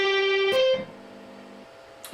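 A few slow, clean electric guitar notes from a tapping lick sound alone, each ringing briefly before the next, ending with a faint pick click.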